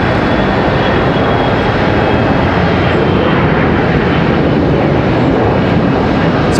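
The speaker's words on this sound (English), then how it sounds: "So we got another ERJ departure." An Embraer ERJ regional jet departs from Charlotte Douglas International Airport, its engine noise a steady, loud broadband roar that fills the whole stretch without letup and with no voices over it.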